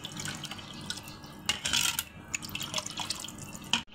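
Rooh Afza milk sharbat with tukh malanga seeds being stirred and mixed, giving soft, irregular liquid swishes and drips with a few sharper clinks near the end, fairly quiet and close, no talking.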